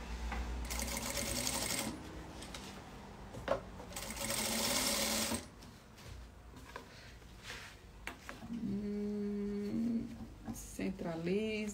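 A home sewing machine runs in bursts while stitching a fabric document bag, its motor loud and close, with pauses between runs and brief handling noises; the machine carries an audible extra rattle or noise.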